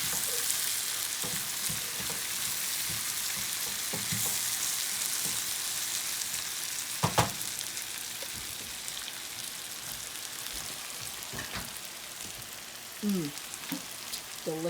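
Breakfast burrito filling, eggs with ham, sizzles and crackles steadily in a hot pan, a dense even frying hiss with occasional pops and the scrape of stirring throughout.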